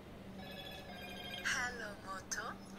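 A Moto Z2 Play smartphone powering on plays a short melodic startup chime in two brief bursts, faint against a steady background hum.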